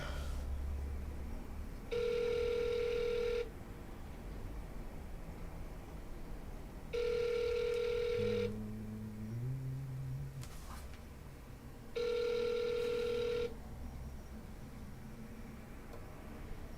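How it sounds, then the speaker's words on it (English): Ringback tone of an outgoing telephone call: three evenly spaced double-pitched rings about five seconds apart, quiet and clean over a faint hiss, with no talking. "We got a phone call."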